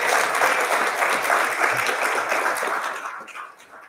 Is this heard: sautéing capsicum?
no